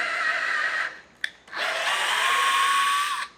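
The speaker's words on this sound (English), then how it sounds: "To drill a pilot hole, take your drill bit and drill the depth of the length of the screw." A power drill whirs loudly in two bursts while drilling a pilot hole, a short pause and a brief click between them, the second run longer and steady before stopping.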